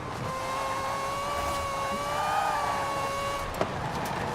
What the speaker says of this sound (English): The Rotary Miata is something that you don't really want to drive actually.